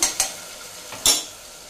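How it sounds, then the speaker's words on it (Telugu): Red amaranth leaves frying in a pan are stirred, giving a few quick scraping clinks over a faint sizzle, close and brief, with no talk. "ఇప్పుడు ఇక్కడ తోటకూర వేస్తానండి. ఒకసారి కలుపుకుందాం."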